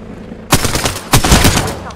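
Rapid bursts of gunfire from an online shooter video game crack out loud and close in two quick volleys, with a voice talking over the shots.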